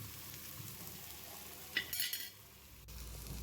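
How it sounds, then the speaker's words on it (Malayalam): Garam masala and turmeric stirred in a frying pan give a faint low sizzle, with a brief scraping burst of the spoon against the pan midway and a soft tap near the end. "എന്നിട്ട് ഇതൊന്ന് ഇളക്കി കൊടുക്കാം നമുക്ക്."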